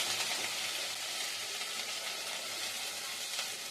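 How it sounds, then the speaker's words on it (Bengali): Chopped onion, garlic and dried chillies fry together in a pan for a mustard greens dish, giving a steady, even sizzle with no one talking. "পেঁয়াজ কুচি রসুন কুচি সবগুলোকে একসাথে ভেজে নেব"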